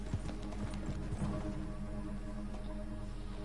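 Horse hooves clip-clop steadily in Red Dead Redemption 2, a close, even run of hoofbeats over a constant low background rumble with no talking.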